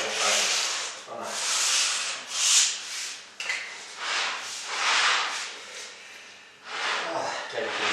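Sanding the edge of a freshly cut piece of linoleum, a steady run of close, rasping abrasive strokes in repeated bursts of about a second each, loud and dry with brief pauses between passes.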